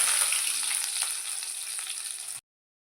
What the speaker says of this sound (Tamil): நம்ம அரைச்சி வச்சுருக்கிற வெங்காயம் பேஸ்ட்டு சேர்த்துக்கலாம்